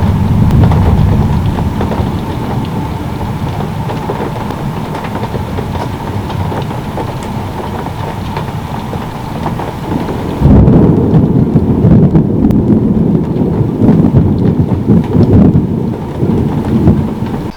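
A heavy thunderstorm rolls on, with a dense roar of pouring rain and low rumbling thunder that swells loudly partway through and stays steady and close with no voices.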